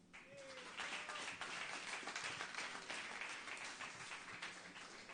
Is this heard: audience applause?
yes